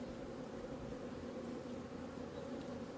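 Honeybees buzz steadily around an open hive during a spring colony inspection, a dense, continuous close-up hum with no pauses and no voices.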